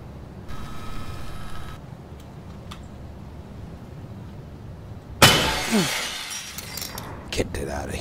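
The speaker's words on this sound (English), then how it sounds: "I'll break another glass." Glass breaks in an abandoned-school night security video game, a sudden loud crash and shatter followed by tinkling fragments, after a quieter stretch with a brief electronic tone and a faint hum.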